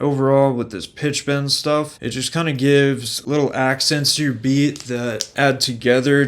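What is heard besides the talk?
No everyday noise stands out behind the speech.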